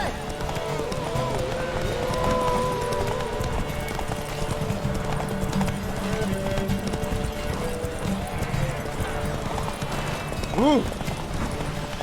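Hooves of the horse Roach galloping in The Witcher 3 video game, a quick steady clip-clop rhythm running throughout with a brief whinny near the end, under game music and spoken lines of dialogue.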